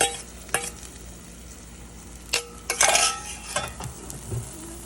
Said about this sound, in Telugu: మన బాండీలో మన ఆనియన్స్ పైన అయితే వేయండి.